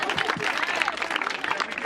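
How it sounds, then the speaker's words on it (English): Crowd applauding at a futsal race ceremony, dense clapping mixed with cheering voices and chatter, loud and continuous throughout. "I think we need to give God a round of applause."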